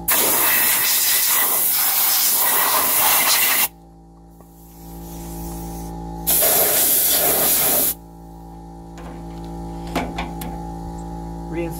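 Compressed air blasts from an air chuck during a Kawasaki Mule oil change: two loud, close hissing bursts, the first about four seconds and the second shorter, separated by a quieter background hum.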